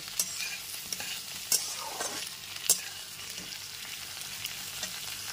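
Malabar spinach stems fry on medium flame in a pan for a hilsa-head chorchori, making a quiet, airy sizzle with a few sharp clicks of a stirring spoon and no talking.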